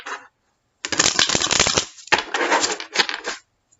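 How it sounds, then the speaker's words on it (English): A deck of tarot cards is riffled and shuffled in two quick, crisp bursts, close up, with a brief pause between them. "Okay, we'll do one final shuffle."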